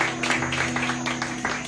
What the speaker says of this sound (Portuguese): Se você recebe essa palavra, aplauda o Senhor nessa noite